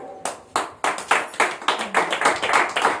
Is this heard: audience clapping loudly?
yes